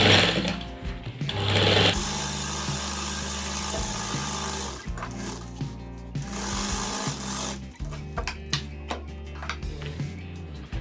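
A sewing machine stitches a shirt collar, its stand joined to the collar beside the canvas, running in steady bursts with short pauses between passes, close and fairly loud with no voices.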